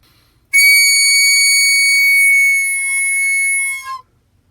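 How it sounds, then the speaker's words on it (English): A recorder overblown by a beginner gives a loud, piercing high squeal, held steadily for about three and a half seconds before cutting off abruptly. "When you first try to push air through your instrument, it might sound something like this."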